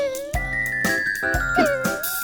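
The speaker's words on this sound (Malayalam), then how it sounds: "ക്ലക്കിൽ മണിയഞ്ച്" A clock in an animated Malayalam nursery rhyme strikes five, sounding as bright ringing chimes that repeat at steady intervals over a sung melody and backing music.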